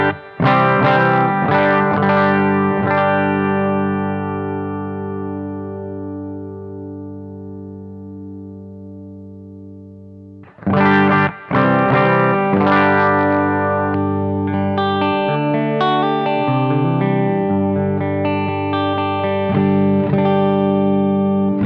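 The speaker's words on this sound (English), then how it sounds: "So we're going to go ahead and bring in a compressor" Clean electric guitar goes through a compressor into a Headrush and Bluguitar Amp1 setup, sounding chords that ring out and decay slowly, then a second passage of chords and single notes with a long sustain.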